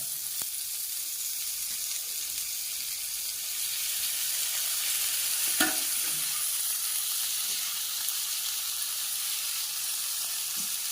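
Onion, green chilli and tomato sauté in a pan for chicken tawa chilli fry, giving a steady, even sizzle throughout with a brief clatter of stirring midway.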